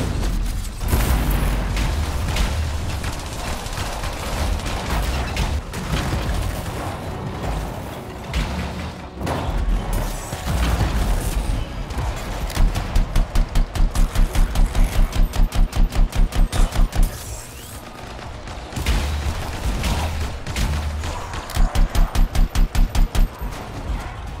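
Gunfire and weapon blasts in the sci-fi shooter game Anthem, sustained and loud over a dense mechanical soundscape, with two stretches of rapid, evenly spaced automatic bursts standing out near the middle and end.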